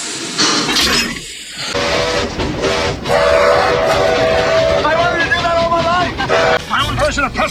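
Steam locomotive of the Back to the Future Part III film, a train with tender and cars burning treated wood logs, rumbling and chuffing loudly with whistle-like tones, under raised voices and film dialogue.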